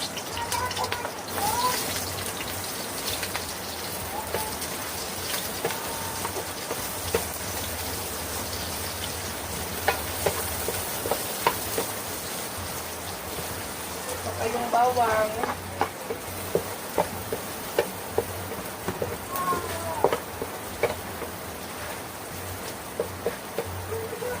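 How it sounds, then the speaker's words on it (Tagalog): Chopped onions sizzling in a hot pan while being stirred, part of holiday cooking at home; a steady frying hiss fills the scene with occasional clicks and scrapes, plus light background sounds. "Lagay na po natin yung sibuyas"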